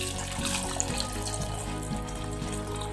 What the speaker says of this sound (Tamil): வேகிற அளவுக்கு மட்டும் தண்ணி விட்டுக்கலாம்.